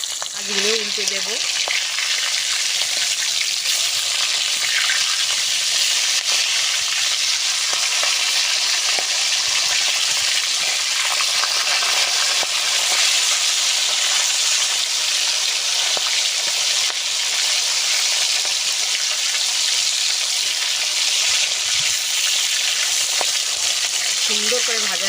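Large pieces of fish turned over and frying in hot oil give a steady, loud, dense sizzle with faint stirring noises underneath, continuous throughout with no talking.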